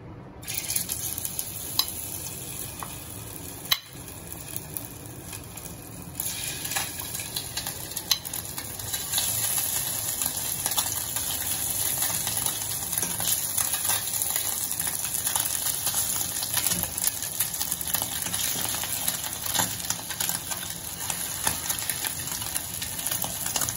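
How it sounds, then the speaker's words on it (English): Continuous crackling sizzle of tofu frying in hot oil, steady and close, with occasional soft clicks and scrapes. "Now that the oil is heated up, I can then add in the tofu."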